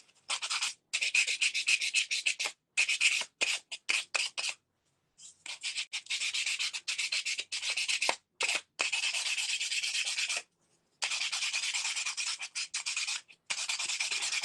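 Painted wooden edges are sanded by hand with 320 grit sandpaper, close raspy rubbing in quick repeated strokes broken by short pauses, steady and fairly loud throughout.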